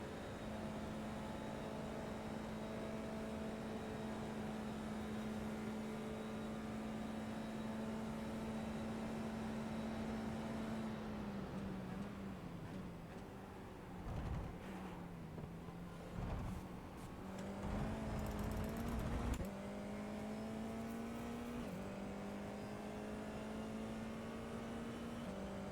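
A Formula 4 race car at full throttle on a lap of Spa-Francorchamps, a steady high engine drone that dips and climbs through gear changes and braking before pulling hard again, heard continuously from on board.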